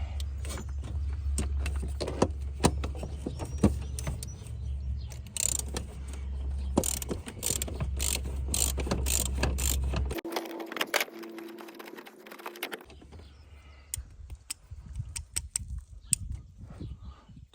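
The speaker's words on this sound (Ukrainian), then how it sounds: "беремо головку на 13 і відкручуємо головний циліндр від вакууму" A 13 mm socket ratchet unscrews the brake master cylinder from the vacuum booster on a Golf 2, giving rapid, fairly quiet mechanical clicking in bursts, a short pause with a low hum, then more scattered clicks.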